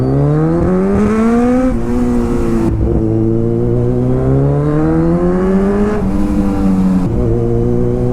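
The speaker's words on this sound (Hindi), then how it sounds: "अब इसके ना, इसमें कार्बन जम गया, इस वजह से इतने भयंकर साउंड कर रहा है।" Kawasaki Ninja motorcycle engine with carbon buildup runs loudly and steadily, its pitch rising and falling in rough revving swells across the whole stretch, close and unbroken.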